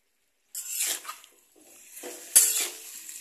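A spoon scrapes and clinks in a pot of pumpkin-vine and fish curry spiced with turmeric and cumin, a few short close stirring strokes with one sharp metallic knock, then quiet.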